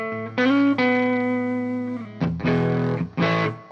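Electric guitar in the neck position through an amp with light compression and no reverb, playing sustained distorted chords and notes in a few loud bursts with short gaps, no talking.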